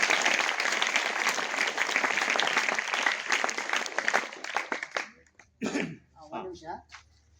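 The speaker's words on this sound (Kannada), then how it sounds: "ಮತ್ತೊಂದ್ಸಲ ಜೋರ ಚಪ್ಪಾಳೆ." Students at a government high school flag-information camp clap loudly together in a dense, sustained burst that tapers off after about five seconds, followed by a few scattered voices.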